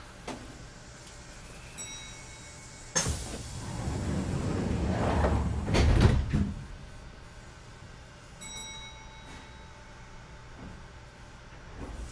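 Kintetsu Nagoya Line train doors sliding shut, starting with a sharp onset and building into a loud, broad rumble of motion and door noise, then falling back to a quieter steady hum inside the car, with faint chime tones around it.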